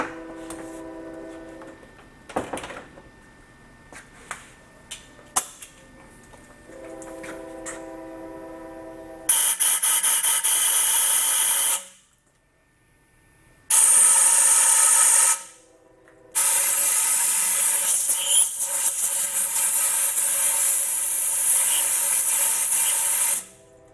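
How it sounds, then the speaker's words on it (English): Compressed air blasts through an emptied hydraulic cylinder from a Bobcat SS175 skid-steer during a rebuild, heard as three loud, sustained hissing bursts of a few seconds each, separated by short silences, after quieter workshop clatter. "then I'm going to go ahead and shoot that with just a little bit of air"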